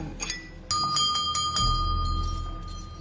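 A small bell rung to call for help gives several quick, bright metallic dings close by, followed by a faint lingering ring over a low background rumble.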